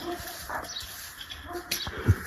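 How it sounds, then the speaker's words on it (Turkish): Dogs whimper and yip softly on a balcony at home, thin high whines scattered over steady background noise, with a brief sharp thump near the end. "Köpekler."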